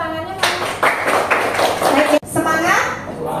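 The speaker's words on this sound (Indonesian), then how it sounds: "Tepuk tangannya" A class of children applauding on cue in an elementary school lesson, a burst of clapping mixed with kids' voices and a teacher speaking, briefly cut off then resuming.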